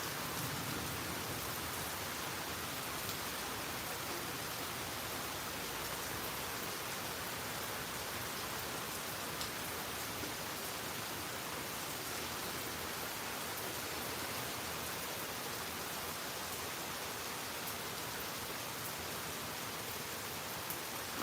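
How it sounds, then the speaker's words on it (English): Heavy Florida afternoon thunderstorm rain in Tampa, a steady, dense roar of downpour on surfaces, constant and even throughout with no pauses and no voices. "As you see, this rain is starting again."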